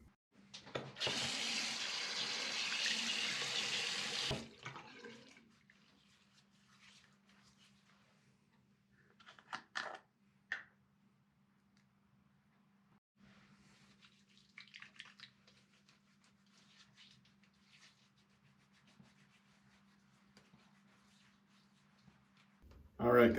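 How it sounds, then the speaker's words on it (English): A bathroom tap runs into a sink for about four seconds while a face is wetted before shaving, then shuts off, leaving a faint hum and scattered small handling sounds. "I will get started by wetting my face and applying some pre-shave."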